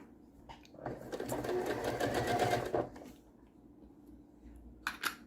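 A sewing machine stitches quilt seams in a steady, fast whirring run for a couple of seconds, then slows and stops, with a brief spoken word near the end.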